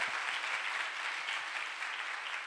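A church congregation at a revival meeting in Ranchi applauds steadily, a dense, continuous wash of clapping from many hands that holds at even loudness throughout.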